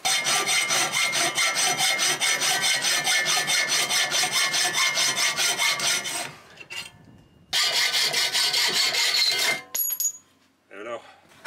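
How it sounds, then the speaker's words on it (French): A hacksaw cuts metal with steady, rapid back-and-forth rasping strokes, stops briefly, then resumes in a second burst of sawing before ending. "il faut le faire à la scie à main, quoi, la scie à métaux"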